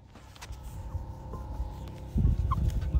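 Live chickens being handled for slaughter and home cooking, with fowl clucking and gobbling calls close by, growing into a louder burst of flapping and squawking in the final second.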